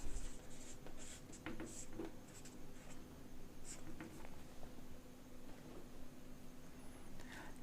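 Pen or pencil writing a geometry proof by hand on paper, steady scratchy strokes in a quiet room, faint and continuous with short pauses between strokes.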